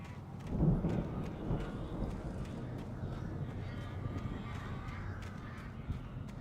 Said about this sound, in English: I hear those birds, and I'm not excited for it.